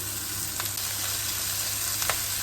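Carrots frying in a hot pan, a steady close sizzle filling the whole short stretch with a couple of brief stirring scrapes, no talk.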